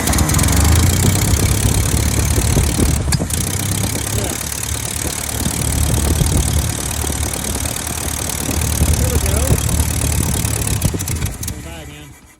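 A Ford 600 tractor engine running on gasoline, a steady loud mid-pitched rumble with a rough, knocking idle that holds for most of the stretch and tapers off near the end, with people talking over it.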